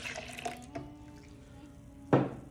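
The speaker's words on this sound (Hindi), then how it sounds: "ये मेरे पास 1 कप मिल्क है जो मैं डाल रही हूँ इसके अंदर" A cup of milk being poured into a blender jar for a banana and date milkshake, a few soft splashy pours and clinks followed by one sharp louder splash near the end.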